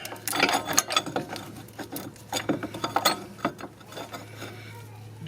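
A ratchet cranks in quick clicking bursts while a press tool is tightened during a front wheel bearing replacement on a 2012 Ford Edge, up close, with metallic clatter between strokes and a low hum underneath.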